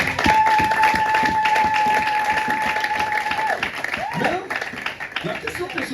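A congregation applauding during a Sunday church service: sustained clapping and crowd voices over a long held musical tone, with spoken voices rising toward the end.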